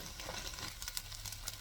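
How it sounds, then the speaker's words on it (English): Garlic sizzling in a pot of soup base, a soft, steady frying crackle heard fairly quietly and close, with no talking. "that garlic has had a couple minutes to cook down"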